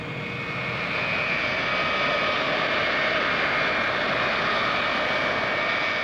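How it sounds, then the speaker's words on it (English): An aircraft jet engine at Stansted airport in Essex roars with a loud, continuous broadband whine and rumble, steady and close, holding at full strength throughout with no voices. "The scream of a jet engine is a sound probably as far removed from the natural world as you can get."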